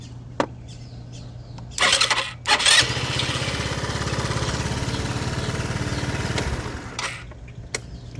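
A Lance Cabo scooter engine is cranked with a few short clicks, then catches into a rough idle for about four seconds before cutting off. More clicks follow, heard close up and with no talking.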